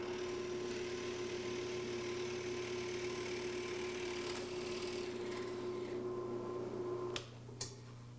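A steady mechanical drone of a power drill boring into wood guided by a jig, running continuously before cutting off, followed by a couple of sharp knocks.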